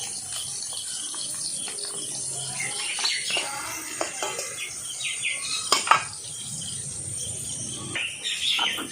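Poppy seeds are ground on a stone grinding slab with a stone roller, giving scraping, gritty strokes in an uneven rhythm and occasional sharper knocks, close and moderately loud, with birds chirping faintly in the background.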